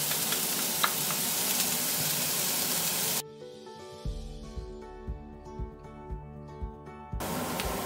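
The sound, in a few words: onions frying in merguez cooking juices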